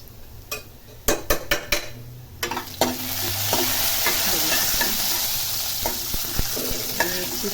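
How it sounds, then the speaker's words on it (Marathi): Mustard seeds and cumin sizzle in hot ghee during dal preparation, with a few sharp clinks of a spoon against the pan early on, then a steady crackling fry that continues under light stirring. "एक चमचा मोहरी एक चमचा जिरं व्यवस्थित ते मिक्स करून घेऊया त्या तुपामध्ये"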